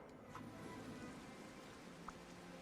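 Rain falls in Disney Dreamlight Valley as a faint, steady hiss with a few soft drop-like ticks, quiet and continuous throughout.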